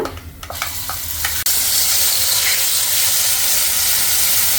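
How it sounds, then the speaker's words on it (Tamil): Mustard seeds and urad dal crackle in hot oil with a few sharp pops, then ground paste goes in and a loud, steady sizzling hiss takes over, close and continuous. "கடுகு உளுந்தம்பருப்பு பொரியட்டும் பெருங்காயம் இப்போ அரைச்சதை சேர்த்துக்கிறேன்"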